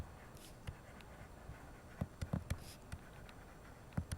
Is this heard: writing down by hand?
yes